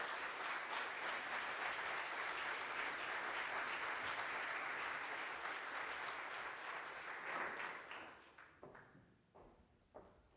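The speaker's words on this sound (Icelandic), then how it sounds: "Gefið henni gott klapp og bjóða hana velkomna" A crowd applauds continuously with dense clapping, then the applause thins out and fades to a few scattered claps at the end.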